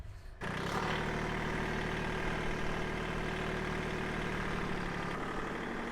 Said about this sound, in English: that Kubota should be warmed up good enough for me to get it out now